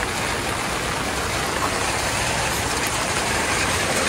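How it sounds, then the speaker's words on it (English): Steady monsoon downpour in Palava City, Mumbai, a loud, continuous hiss of heavy rain with no breaks and no voices. "it's continuously raining right now"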